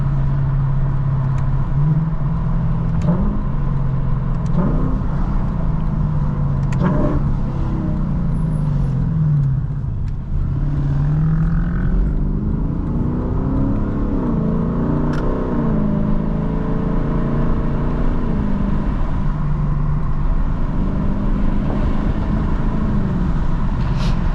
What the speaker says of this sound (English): I was just waiting for the car to warm up so we can start making some noise